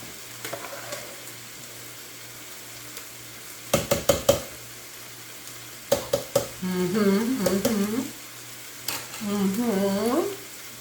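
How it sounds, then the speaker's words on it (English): Split peas being stirred in hot broth in a pot, with a low steady sizzle, bursts of spoon scraping against the pot, and a voice talking over the later stirring. "I want to stir these peas up because I really want it to get saturated in the broth."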